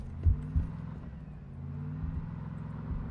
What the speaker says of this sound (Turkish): Araba sesi var.